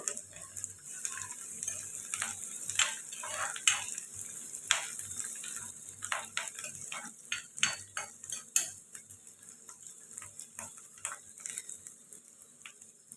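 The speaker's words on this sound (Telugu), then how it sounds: "ఇందులోకి కరివేపాకు ఇలా ఫ్రై అవుతాయి కదండి" Curry leaves and crushed garlic frying in oil for an eggplant and drumstick curry, with a faint continuous sizzle broken by repeated sharp clinks and scrapes of a spoon stirring against the pan, close and without talk.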